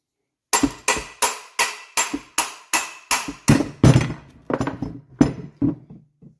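Metal hammer blows striking a wheel bearing on a 2005 Iveco Trakker truck, about fourteen sharp, ringing hits in a steady rhythm that grows slightly faster and more irregular toward the end, close and loud with no talk.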